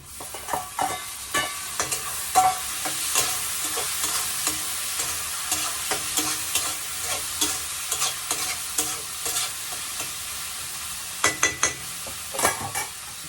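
Chopped tomatoes sauté in oil in a pan as the base for a seafood fish curry, with a steady close sizzle broken by frequent scraping stirs of a spoon against the pan and no voices.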